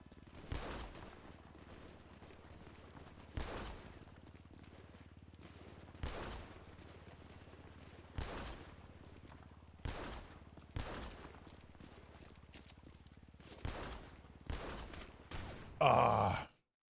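Python revolver gunfire in the GTA RP game: about nine single loud shots spaced a second or two apart over a low steady hum, ending in a harsher burst.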